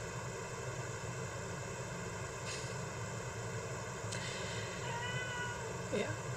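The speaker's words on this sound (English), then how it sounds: "on that note, there's my cat." A cat meows a few short times indoors, faint and somewhat distant, over a steady background hum.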